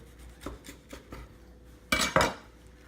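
A knife cuts through a cooked, juicy brisket burger, giving a few soft scraping strokes followed by two louder, close crunchy cuts against the plate or board near the end.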